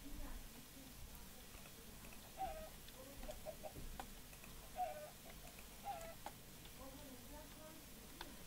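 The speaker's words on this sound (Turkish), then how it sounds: "Tavuk." Soft, short Minecraft chicken clucks repeat at scattered intervals over a low, steady game-like background hum, fairly quiet and close.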